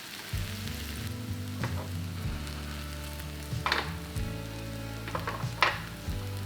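Korean zucchini pancake, hobak jeon, fries in oil in a pan with a constant close crackling sizzle and a few sharper pops, with a low hum running underneath.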